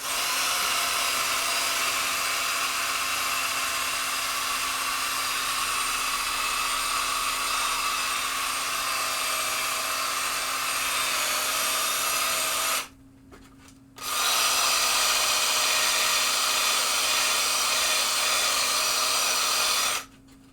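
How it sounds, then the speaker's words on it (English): A power drill buffs and polishes the playfield of a 1972 Williams Superstar pinball machine, giving a loud continuous whirring rub that cuts out for about a second before resuming at the same steady level. "Just got to go over it again because this drill's faster."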